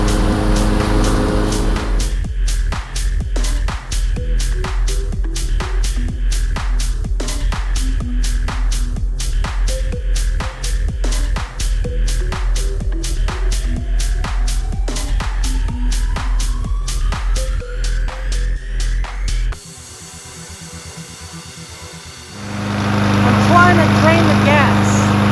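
Small engine equipment being run on its last bit of fuel: a loud, steady, rapid thumping idle that goes on for about twenty seconds before cutting out, followed by quieter background noise and some talk.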